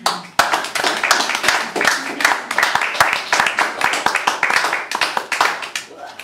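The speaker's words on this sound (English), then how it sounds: "More applause, please" Close, loud clapping from a small audience at a live reading, individual sharp hand claps clearly separated in a brisk irregular rhythm, with some voices mixed in underneath.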